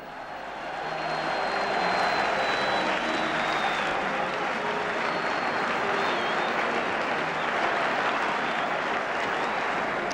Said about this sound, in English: there's the crowd as they go out onto the pitch